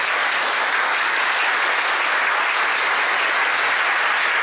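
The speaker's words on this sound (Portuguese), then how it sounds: "Posso pedir uma salva de palmas para todos nós?" A gathered crowd applauds everyone present at a community ceremony, filling the room with loud, dense, unbroken clapping that holds steady throughout, with no voices heard.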